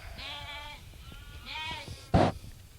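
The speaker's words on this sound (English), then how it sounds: "Oh, this is your goat." A goat on a rural farm bleats twice in drawn-out, wavering calls, close by, followed by a short sharp knock or bump.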